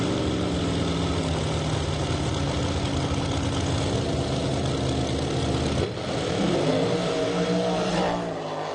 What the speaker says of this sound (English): Loudest dragster on the property, fastest dragster on the property